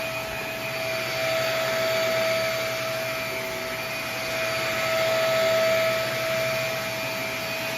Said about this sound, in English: This one's already sucking stuff up. This one has a lot of power.